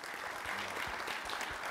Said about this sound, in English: let's give Dr. Hampton another round of applause.